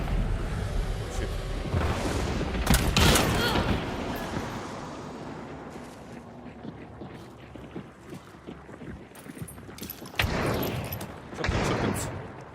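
Shotgun gunfire in a video game: a few loud, booming blasts, a close pair early on and two more near the end, over a steady rumbling background.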